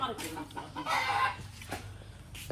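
Chickens and a rooster cluck close by at their early morning feeding in a coop, a steady mix of short calls and squawks with a voice talking faintly in the background.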